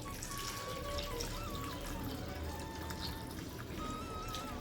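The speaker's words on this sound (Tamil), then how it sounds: "நம்ம கிச்சடி பண்ண போகிற அளவுக்கு நம்ம தண்ணி விட்டுருவோம் அதில்" Water pours steadily into a pot for making rava khichdi in an unbroken trickling stream. It holds a constant level throughout, with no talking.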